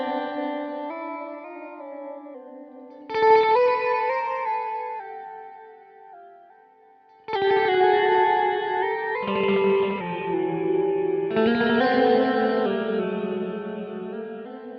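Strymon Nightsky time-warped reverb pedal with the dry signal removed and modulation speed and depth raised, giving swelling, wavering wet-only chords that shift in pitch unpredictably, with louder re-entries around the fourth and seventh seconds, no talking.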